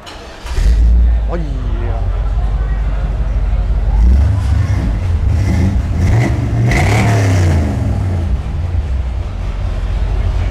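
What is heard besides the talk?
car engine starting and revving with exhaust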